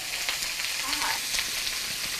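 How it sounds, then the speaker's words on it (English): Cabbage, onions, green peppers and carrots sizzle and crackle in a hot pan, a dense, steady frying hiss close up with faint stirring. "Nice and sizzling here."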